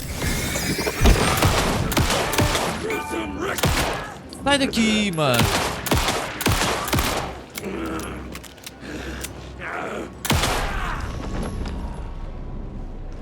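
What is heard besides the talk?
gunfire in the video game Alan Wake II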